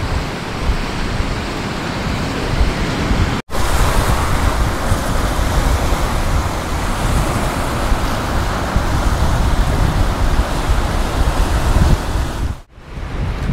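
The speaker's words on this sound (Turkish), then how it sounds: "Hava sıcak ama bu rüzgar gerçekten insanı hasta edebilir yani, çok fena." Strong wind buffets a beachside spot on a coast, roaring as a loud, continuous rush of noise over the microphone, with surf likely mixed in and two abrupt brief dropouts.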